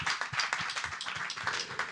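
A small audience at a Broadway-style musical commemoration claps steadily, soft and somewhat distant, a brief burst of applause without voices.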